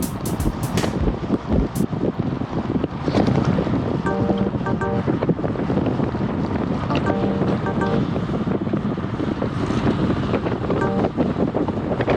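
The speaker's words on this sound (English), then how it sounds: "You hear the wind." Strong wind buffets the microphone outdoors, a loud, constant roar and rush that lasts the whole time with a few sharper gusts near the start.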